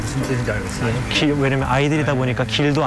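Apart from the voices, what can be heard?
No everyday noises stand out.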